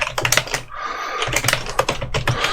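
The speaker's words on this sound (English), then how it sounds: "So let me type that." Rapid clattering keystrokes on a computer keyboard, close and fairly loud, with a short pause near the middle before the typing resumes.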